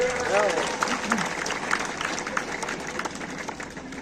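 A crowd applauds a national-level kho-kho girl player at a kabaddi sports gathering, with steady clapping throughout and a voice calling out over it near the start.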